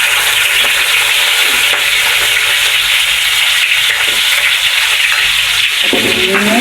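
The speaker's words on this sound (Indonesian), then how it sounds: "Pertama-tama kita tumis dulu bawang merah sama bawang putih yang sudah kita iris tadi ya bun." Sliced shallots and garlic sizzle loudly in hot frying oil, with a constant close crackle and occasional stirring scrapes throughout.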